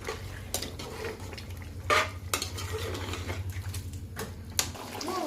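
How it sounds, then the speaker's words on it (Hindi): Hyderabadi mutton biryani masala roasting over a high flame in a pot, with a low frying hiss under repeated metallic scrapes and knocks of the stirring utensil, close and fairly busy. "अब इसकी कच्ची बू जाने तक अच्छी तरह से इसकी भुनाई कर लूँगी"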